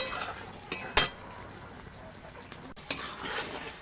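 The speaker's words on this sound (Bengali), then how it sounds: "আমি গরম মশলাটা দিয়ে একটু নাড়াচাড়া করে নিয়েছি" Potol and shrimp curry stirred with garam masala paste in a pot: a soft, brief sizzle under a couple of sharp metal clinks and scrapes from the stirring utensil, close by.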